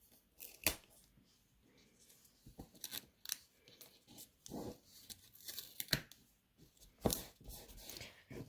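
Quiet, intermittent ripping and crinkling of tape, several short tears spread across the clip with soft handling noises in between.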